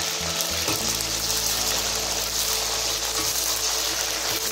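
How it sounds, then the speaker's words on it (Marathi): Green beans fry in hot oil for a vegetable matka biryani, giving a steady, dense sizzle throughout with a few low bubbling pops near the start; no one speaks. "बीन्स पण असेच आपल्याला तळून घ्यायचे"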